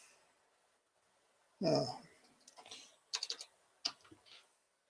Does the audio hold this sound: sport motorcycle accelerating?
no